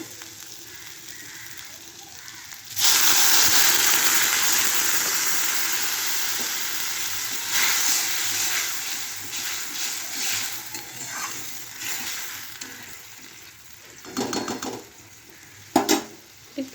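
Water is poured into a pan of spiced potatoes and pointed gourd already frying, setting off a sudden loud sizzle that slowly fades into a softer bubbling hiss, with a few clinks of a utensil near the end.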